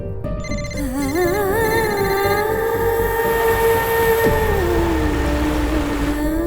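A phone rings on unanswered, its electronic melodic tone sounding loud and steady with wavering pitched notes that hold and then shift, with no voices over it.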